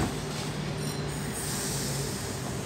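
A picnic train pulls out of a station at Bellambi on the Kiama line, with a steady rolling rumble and wheel noise close by under a faint announcement tone.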